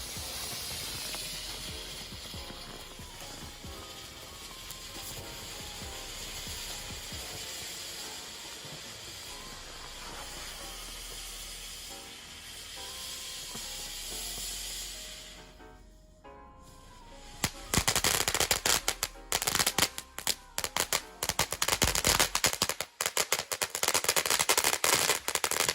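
Short Stack firework fountain burning, a steady loud hissing spray for about fifteen seconds, then a brief dip and a harsh burst of rapid crackling pops to the end.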